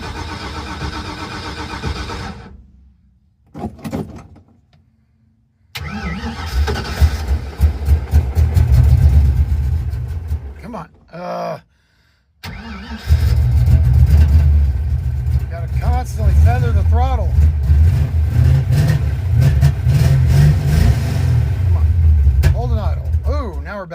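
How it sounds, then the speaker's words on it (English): A car engine fitted with an Edelbrock 1405 carburetor that is hard to start and idle cranks, catches and runs roughly, cutting out into brief silences before loud rumbling restarts, with people talking over it. "backfiring. I don't know if that's a lean pop or what."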